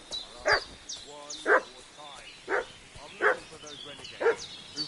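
A dog in Kingdom Come: Deliverance II barks in five sharp, evenly spaced bursts about a second apart, fairly close, with faint whimpering and higher yips between them over quiet game ambience.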